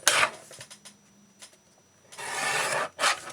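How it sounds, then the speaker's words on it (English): Old, 40- to 50-year-old paper being trimmed, brief close rasping and scraping strokes, a couple of short ones at the start and a longer sustained rasp near the end, with quiet gaps between. "Let's go ahead and trim that back down a little bit."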